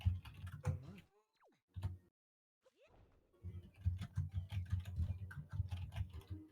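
Rapid clicking of computer keyboard keys goes on in dense, uneven bursts during a casual online race, quiet and nearby, pausing briefly before resuming steadily.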